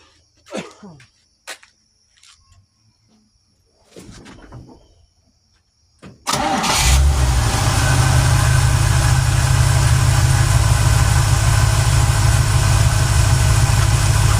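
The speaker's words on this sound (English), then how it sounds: "See how well it starts up." A truck engine fitted with a Chinese Holley carburetor, just after a float adjustment, cranks and fires at once, then settles into a loud, steady idle close by, following brief clicks and rustling.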